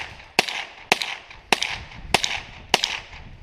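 .22 rifle shots fired from a magazine out over a lake, five sharp cracks spaced roughly half a second apart, each with a short outdoor echo trailing off.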